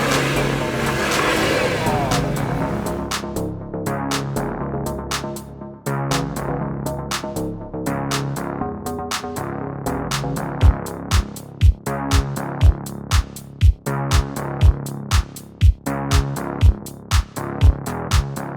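A car engine revs up and down on its own, loud and close, with a steady roar at first and then a series of sharp repeated blips in quick succession toward the end.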